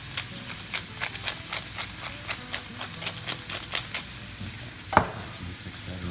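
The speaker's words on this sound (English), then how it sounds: "Mix that around." Steady rhythmic scraping taps from a utensil mixing flour with cayenne, dry mustard, salt and black pepper in a bowl, evenly spaced and close, ending with a single sharper knock.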